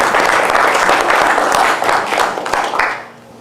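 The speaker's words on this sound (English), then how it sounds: "I think we need a round of applause for Aaron and his team." Applause from the audience at a Vernon, Connecticut Board of Education meeting: dense, steady clapping from a room full of people that holds for about three seconds and then fades out quickly.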